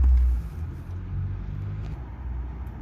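A car drives past, a low rumbling engine swelling loud and close at the start, then a steadier, softer rumble that carries on for a few seconds with no talk over it.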